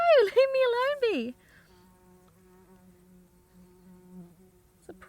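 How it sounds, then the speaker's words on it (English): A bumblebee buzzes faintly in a steady, low drone that runs for several seconds, right after a brief voice. "It's a proper bumblebee."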